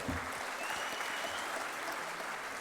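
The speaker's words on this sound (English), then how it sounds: "Big round of applause for them" Audience applause for student achievers from Jain Chhatralay (Shishuvan School) at the Mahajan Sports Abhiyan 2015 ceremony, a steady dense wash of clapping throughout with a faint whistle-like tone riding above.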